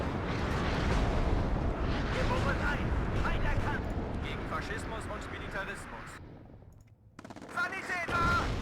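Dense battlefield gunfire mixed with heavy tank cannon blasts in the real-time strategy game WARNO, a continuous loud barrage that dips briefly toward the end before surging back.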